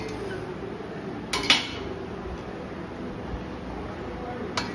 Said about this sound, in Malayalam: നമുക്ക് അതിൻ്റെ പാത്രത്തിലോട്ടിട്ട് മിക്സ് ചെയ്യാം.